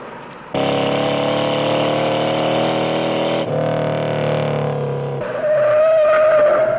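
A race car driven at speed, its engine holding a loud sustained roar that shifts pitch as it slides and skids through turns, with tire squeal rising near the end.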